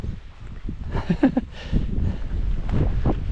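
Gusty wind buffets the microphone on the exposed summit of Cadair Berwyn, rising into a steady, loud roar after the first second and a half and continuing to the end.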